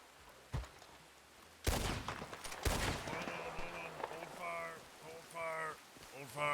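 Video game shootout between a gang and sheriff's deputies: bursts of gunfire break out loud and close after a quiet start, then settle into scattered shots while voices shout over the fighting.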